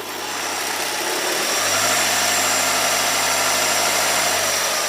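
A car engine runs steadily after a rattle repair, starting quieter and then settling into a loud, even hum as the gas is applied.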